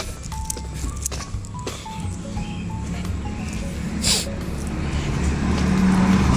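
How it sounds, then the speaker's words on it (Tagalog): Traffic on a village barangay road in Alfonso, Tagaytay, with a continuous motor rumble of tricycles and cars that gradually grows louder and nearer, among outdoor ambience and faint bird calls. "Ayan, maraming mga tricycle."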